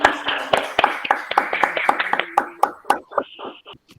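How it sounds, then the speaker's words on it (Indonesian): A classroom of pupils gives a round of rhythmic clapping for a classmate, sharp, evenly spaced hand claps close by that slow and thin out toward the end, with children's voices mixed in. "Tepuk tangan buat Urin."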